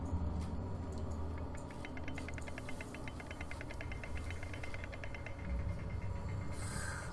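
A mechanism being unscrewed in the horror game Amnesia: The Dark Descent, a rapid ratcheting clicking that speeds into an even, gear-like rattle over a low ambient rumble, ending with a soft creak.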